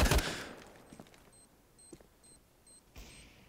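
Gunfire in the CS:GO game: a loud burst at the start, then a few fainter isolated shots amid repeating electronic beeps, ending with another sharp report.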